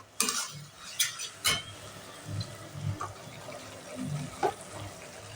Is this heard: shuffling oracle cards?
no